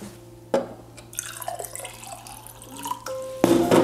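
Water is poured for a drink at close range, with a sharp clink, trickling splashes and a tap-like stream, ending with another bright knock.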